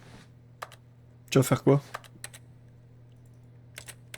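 Scattered computer keyboard key presses from The Stanley Parable come as a few isolated soft clicks, near and quiet. A person briefly speaks in the middle.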